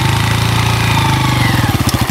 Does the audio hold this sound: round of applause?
no